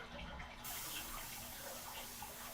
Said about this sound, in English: So now we have stream sounds.